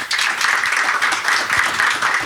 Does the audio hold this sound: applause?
yes